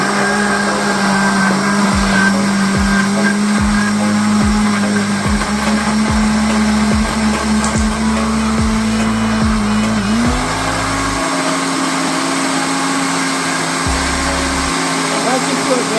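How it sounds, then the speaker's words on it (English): A countertop blender whirs steadily through kale for green juice, a loud continuous motor drone with a slight pitch shift partway through and a few low knocks, no talking over it. "So I'm gonna blend this kale right now."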